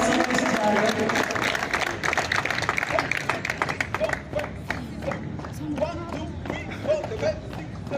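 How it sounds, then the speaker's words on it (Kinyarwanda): Crowd clapping at a Pathfinder club marching display, dense rapid claps merging with footsteps and cheering, loud at first and then thinning into scattered louder claps toward the end. "amashyi menshi cyane"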